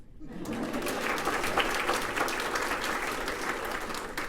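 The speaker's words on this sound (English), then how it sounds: "you can clap." An audience at a State of the Region event breaks into loud, sustained applause, dense clapping that carries on steadily with no clear talk over it.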